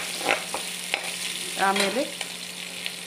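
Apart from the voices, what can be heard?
ginger frying and being stirred in a pan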